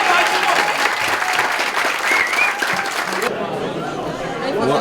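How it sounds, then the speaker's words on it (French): Concert audience applauding loudly, a dense continuous wash of clapping with crowd chatter mixed in, easing to a softer level partway through. "je demande un maximum d'applaudissements"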